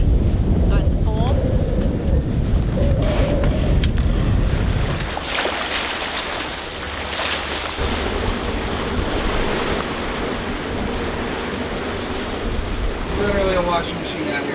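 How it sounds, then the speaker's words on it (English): Wind buffets the microphone on a sailboat at sea while waves slosh and surf rushes around the hull, loud and continuous, with a few faint voices briefly audible. "We got waves, we got swell coming this way, we got wind going this way"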